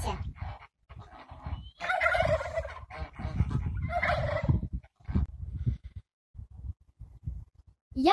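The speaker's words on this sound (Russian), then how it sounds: "Мы индюшки, индейки, индейцы. Наш голос прекрасен." A turkey-like gobbling in rapid warbling bursts, close and loud, broken up by short pauses and a few lower vocal sounds.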